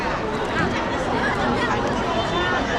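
Dense crowd chatter fills the air near the Ruins of St. Paul's on Calçada do Amparo in Macau, a steady, close babble of many overlapping voices with footsteps mixed in.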